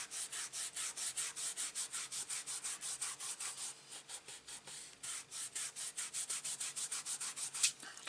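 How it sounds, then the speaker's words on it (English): A faux leather card being rubbed by hand, steady rhythmic back-and-forth strokes close up, a soft scratchy rasp with brief pauses and no talking. "I'm going to turn over my card and just rub it again."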